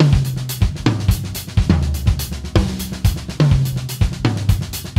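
Drum kit playing a four-over-seven sixteenth-note polyrhythm groove, with regular bass drum and tom accents under continuous cymbal and snare strokes, close-miked and steady throughout with no voices.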